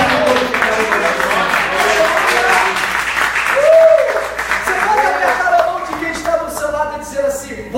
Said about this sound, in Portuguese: Você pode aplaudir e glorificar a igreja.